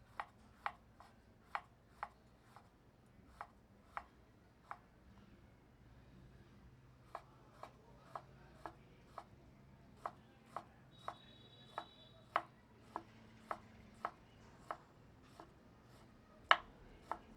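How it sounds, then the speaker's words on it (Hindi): Kitchen knife finely chopping a small tomato on a board, a steady series of crisp, quiet taps at an even, unhurried pace, close and alone with faint room noise. "इसको भी बारीक काट लेते हैं।"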